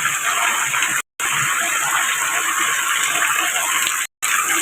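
Water gushes hard and continuously from a spring spout at night, a loud close rush broken only by two brief dropouts.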